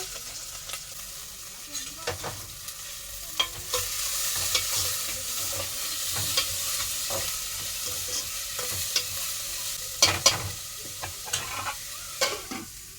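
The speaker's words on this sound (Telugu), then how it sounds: "ఉల్లిపాయలు బాగా వేగే వరకు వేపుకోవాలి" Onions fry in a pan for an okra and prawn stew, a steady sizzle with repeated clinks and scrapes of a spatula stirring, fairly close and without talk.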